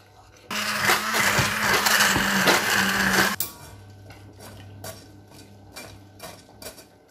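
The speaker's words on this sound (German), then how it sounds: "Erstmal ein bisschen umrühren." Grape-plum jam being stirred in a pot, with some of it stuck to the bottom. A loud, dense scraping and whirring burst dominates the first few seconds, then drops to lighter scrapes and clinks of the spoon against the pot.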